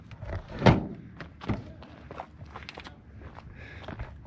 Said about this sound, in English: Stand on the wing, open the door and walk in.